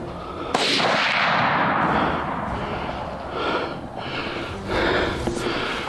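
A gunshot rings out from a hunting blind, a sharp crack followed by a long rumbling boom and outdoor background noise.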